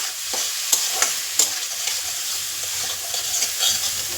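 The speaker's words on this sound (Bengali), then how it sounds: "মশলাটা খুব ভালো করে কষাতে হবে এবার" Spice paste with Kashmiri red chilli powder is stir-fried in a pan for a Bengali hilsa fish curry, a bright steady sizzle broken by several sharp spatula clacks against the pan.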